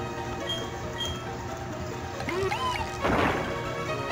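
Rock Smash from the Pokemon Platinum video game: a brief crunching smash effect cuts in about midway, followed by a short crumbling burst, all sitting over steady, faint background game music.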